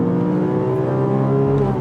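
A Porsche 997.1 GT3 RS with an Akrapovic bypass exhaust holds a high, rising rev toward its red line, a loud close engine wail rich in harmonics.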